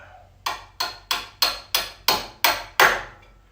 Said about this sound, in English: I'm going to grab my hammer and my drift here. I'll tap it down a little bit.